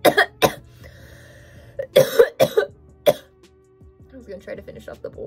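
Several harsh coughs in quick bursts, close and loud, with short pauses between them and some throat clearing trailing off at the end.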